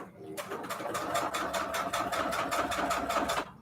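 A sewing machine runs a straight stitch, its needle hammering in a fast, even rhythm of about five stitches per second, close and steady, starting and stopping cleanly.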